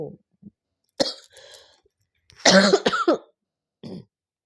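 A few separate coughs ring out close by, with short silent gaps between them, the middle one the loudest and harshest.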